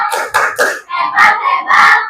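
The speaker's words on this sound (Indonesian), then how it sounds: "Tepuk hebat." A classroom of students does the 'tepuk hebat' rhythmic clapping cheer, a short patterned sequence of claps mixed with chanted voices, loud and close.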